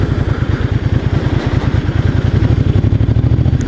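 A 1996 Honda Magna 250cc motorcycle engine pulling under throttle on the road, its low rapid firing pulses thudding evenly and loud up close with wind rush over the top, no voices.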